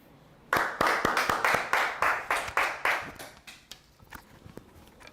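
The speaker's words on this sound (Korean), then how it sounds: "큰 박수 부탁드립니다." Audience applause at a political forum on regional development in Gwangju and South Jeonnam, breaking out suddenly as a burst of clapping, then thinning to scattered claps that fade out.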